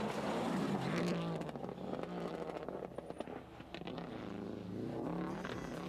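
Subaru rally cars on a stage of the 2000 Donegal International Rally, engines snarling close and loud as they rev and shift through gears, with one brief dip before the roar builds again.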